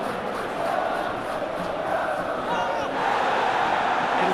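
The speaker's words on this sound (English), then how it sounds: "Crowd appreciates good football all round there." Stadium crowd in the football video game eFootball PES 21 during a Chelsea v Leeds United FA Cup semi-final, a steady loud roar of massed voices with a slight swell toward the end.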